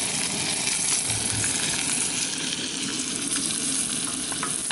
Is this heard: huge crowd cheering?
no